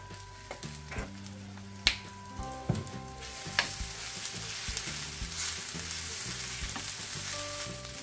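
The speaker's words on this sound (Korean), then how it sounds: "식용유를 좀 넉넉하게 넣어서 오뎅 볶을 땐" Fish cake (oden) stir-fried in a generous amount of cooking oil sizzles steadily up close, with occasional sharp pops and scraping stirs against the pan.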